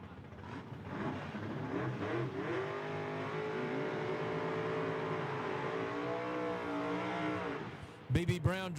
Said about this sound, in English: and he's going to go down the track alongside of B.B. Brown out of Dalton, Georg